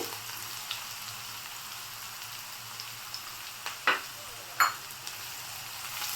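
A generous amount of onion fries for egg tikka masala, making a faint, steady sizzle in a pan, with a couple of soft stirring knocks and no talk.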